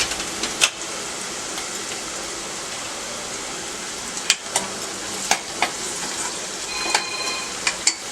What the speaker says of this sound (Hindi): तो प्याज हमारे अच्छे से भून गई है। और इसी में ये हम हरी मिर्ची भी डाल देते हैं।